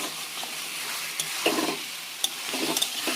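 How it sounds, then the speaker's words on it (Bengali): Potatoes and spice paste frying in oil, a low steady sizzle with a few soft stirring scrapes and light clicks of a spoon against the pan, close, with no speech. "এবার আলুটা দিয়ে এই মশলাটা এবার আমি ভেজে নেব যতক্ষণ না তেল ছাড়বে।"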